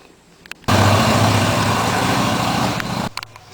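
A motorcycle ridden up a driveway by a 76-year-old roofer roars loudly for about two and a half seconds, a close, sustained engine drone that starts abruptly and cuts off, with quiet on either side.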